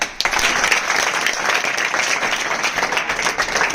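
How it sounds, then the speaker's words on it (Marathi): A live audience breaks into applause, dense continuous clapping from many hands that starts sharply and stays loud and even throughout. "टाळ्या"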